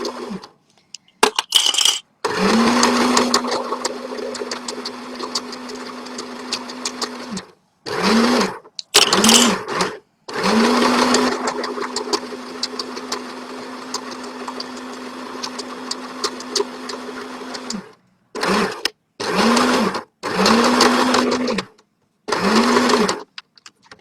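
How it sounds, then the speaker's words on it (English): Workshop sewing machine running in repeated bursts, a steady motor hum with rapid needle stitching, several long runs and short stop-start spurts separated by brief silences, close and loud. "Okay, so I've got my two workshop sewing machines back in action."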